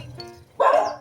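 A single sharp dog bark rings out close and loud after a brief moment of quieter background sound.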